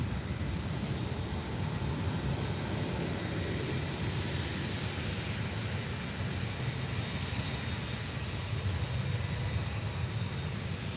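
An Air Transat airliner in special livery landing at Faro airport, a steady broad jet engine roar that holds loud and unbroken throughout, with no talk.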